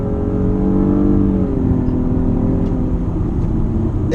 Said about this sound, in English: It gets up and moves like crazy here.